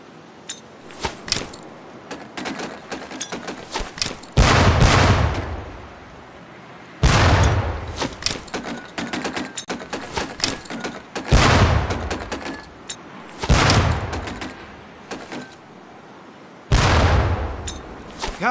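Training grenades lobbed at barrels in Medal of Honor: Pacific Assault detonate one after another, about six loud booming blasts with rumbling tails, spaced a few seconds apart over faint background clatter.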